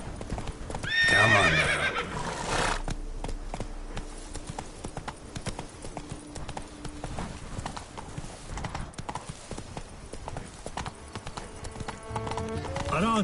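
Horse Roach in a PS4 video game gallops with steady clip-clop hoofbeats and lets out a loud whinny early on, while someone speaks briefly over the hooves.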